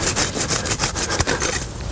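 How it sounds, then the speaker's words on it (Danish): A hand saw cuts through the trunk of a Christmas tree outdoors. Its rapid back-and-forth strokes rasp loudly and closely for the whole stretch. "at være med til at save, så de også føler, de med til at fælde årets juletræ"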